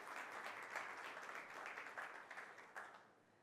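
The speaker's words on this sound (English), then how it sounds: "we'll start with a big round of applause for everybody in the gaming industry" A conference audience applauds for the gaming industry at a keynote, dense even clapping from many hands that swells slightly and then tapers off toward the end, with no speech over it.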